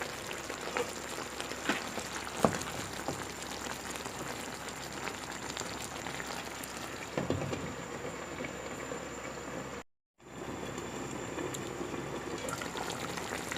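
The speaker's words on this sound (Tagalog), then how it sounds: "Siyempre mas pakuloy nyo pa siya ng mas matagal." Pork afritada simmering and boiling in a covered pot, a continuous loud bubbling and sizzling hiss with scattered pops and soft clinks, broken by a brief moment of silence before the steady boil resumes.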